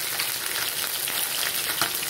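Steady crackling sizzle of balonggo fish frying in hot oil, continuous and close, with small pops scattered throughout and no voices.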